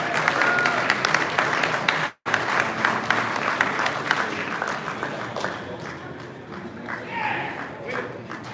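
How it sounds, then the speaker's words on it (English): Audience applause at a Hot Wheels collectors nationals event, a dense, steady clapping crowd that carries on for several seconds with a brief cut partway, with voices mixed in. "Yeah, round of applause."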